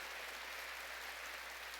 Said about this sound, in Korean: 박수로 하나님께 영광 돌리십시오